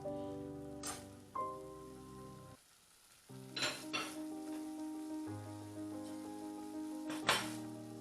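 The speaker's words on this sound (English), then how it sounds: "I'm going to wait for it to just boil a little bit" Nigerian tomato and egg sauce bubbling quietly in a pan, with a faint sizzle and a few soft pops under steady tonal background music.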